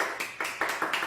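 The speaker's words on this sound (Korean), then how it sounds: "큰 박수 부탁드리겠습니다." A short burst of audience applause from a seated crowd at a motivational talk, steady clapping that holds at an even level for about a second.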